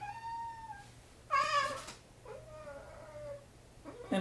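A cat meows several times indoors amid the clutter of moving house, a drawn-out tonal call first, then a louder burst and a softer wavering meow, with a short cry again at the end.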